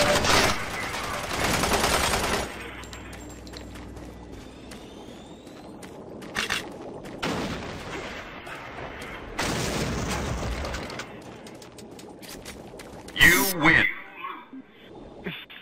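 Heavy bursts of gunfire from a Doom 3 deathmatch on Xbox Live, with loud broadband blasts near the start and several more scattered volleys and impacts in an action-filled game soundscape.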